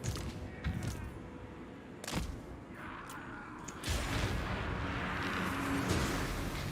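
Poison wind mortar fire in Total War Immortal Empires, sharp distant thumps and a whooshing launch followed by a rising, sustained roar of battlefield blasts.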